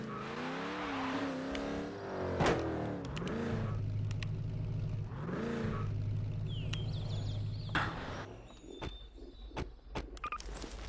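A car in the Garry's Mod video game revving hard, its engine tone rising and falling in repeated pulls, loud and close, before settling into scattered small clicks and knocks.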